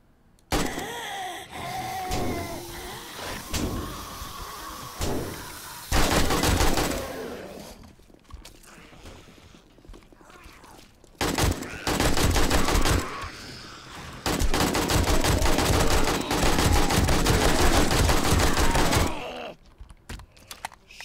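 Rapid gunfire in the zombie survival game 7 Days to Die, loud bursts of repeated shots in two long stretches separated by quieter gaps, dense and close with no talk over it.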